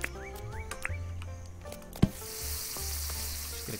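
Bananas sizzling on a cooking spot in the video game Dinkum, a steady soft frying hiss with a few tonal game chimes and a sharp click midway, no talk.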